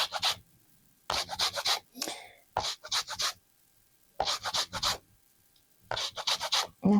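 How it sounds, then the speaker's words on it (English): Orange zest being grated off the peel in repeated short bursts of dry rasping strokes with quiet pauses between, close and clear. "Zest of an orange."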